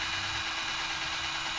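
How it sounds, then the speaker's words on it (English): An electric drill whirs loudly and continuously at a steady pitch while drilling through a part on an electric drag car, a dense buzzing grind with no pauses. "So drilling through"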